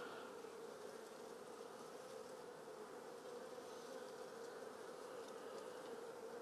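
Honey bees clustered on the bottom of a hive frame give off a steady, dense buzzing hum, faint and continuous with no talk.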